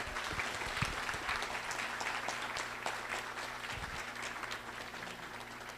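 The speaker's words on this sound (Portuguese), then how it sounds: "eu peço uma salva de palmas para a equipe do ICMBio" Audience at a Brazilian trails network meeting gives sustained applause for a park agency team, many hands clapping steadily and close, with a few sharper claps standing out before it slowly thins.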